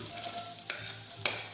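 Chopped onion frying in a pan for a vegetarian lentil lasagna, a faint steady sizzle broken by two short sharp clicks of a utensil against the pan.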